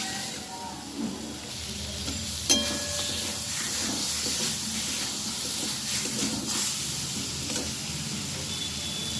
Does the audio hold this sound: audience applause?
no